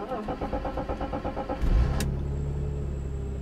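A BMW engine cranks with a rapid rhythmic starter whir on a cold day using a newly programmed key, then catches and settles into a steady idle hum, close and alone.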